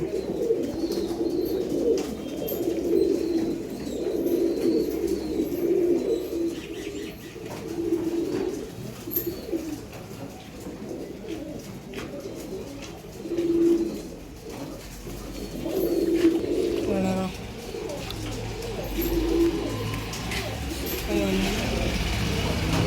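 Female pigeons kept for sale coo in low, rounded, repeated phrases, fairly close, with faint chirps and a passing car in the background; no voices are heard.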